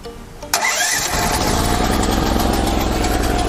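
KTM-9200KE 7 kW petrol generator cranking on the electric starter and catching: a brief quiet stretch, then an abrupt start that settles into a loud, steady, close running drone.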